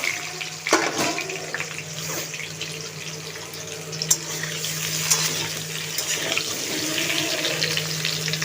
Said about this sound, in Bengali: এবার এই তেলের মধ্যে আমি একটু আলুগুলোকে ভেজে নেব সিদ্ধ করে রাখা আলুগুলোকে ভেজে নেব